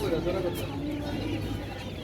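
Super hybrid chickens cluck at a busy poultry market held in the rain, their steady calls close by and filling the whole moment with no talk over them.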